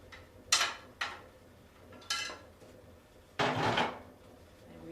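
A knife cuts thin vegetable slices for bibimbap on a wooden board: four or five sharp, separate chops at uneven intervals, close and fairly quiet, with the last stroke longer and heavier.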